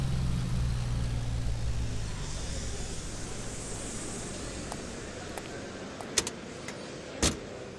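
Inside a car as someone climbs in, a steady low engine rumble fills the cabin, then a couple of sharp clicks and a brief mechanical whir come near the end, with no talking.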